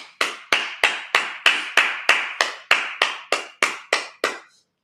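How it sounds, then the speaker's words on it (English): About a dozen sharp, evenly spaced claps ring out alone at a Sabbath service, each crisp and close with a short decay, the rhythm steady until it stops. "Clap it up."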